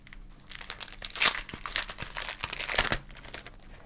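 Close crinkling and tearing as packaging is opened around an overlay paper sheet for a Fujitsu Quaderno A5 e-ink tablet, irregular rustles with two sharper rips, fairly quiet and with no talk.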